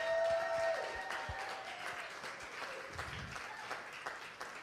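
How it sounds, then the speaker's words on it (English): Applause from an audience at a morning church gathering honoring young people, a fairly faint, steady patter of many hands that swells at the start and then continues evenly to the end. "can we just give a huge round of applause to our young people this morning?"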